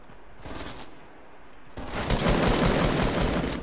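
Gunfire from a Fortnite video game gun rattles as the weapon is emptied in one rapid burst. The bursts start quieter and grow louder and denser partway through, then carry on without a break.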